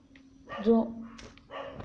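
A few dog barks and yips from some distance, mixed with a low steady hum and a brief voice nearby.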